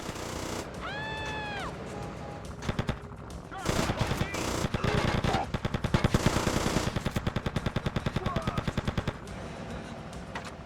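Rapid machine-gun bursts in GTA Vice City Stories on PS2, a loud rattling stream of closely spaced shots that builds and continues for several seconds, preceded by a brief rising whine and scattered single shots.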